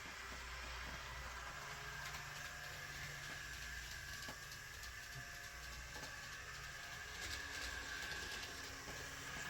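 An Alco Sentry model locomotive runs along its track with a faint, steady electric whir and a thin sustained hum, punctuated by light clicks of the wheels. No one speaks.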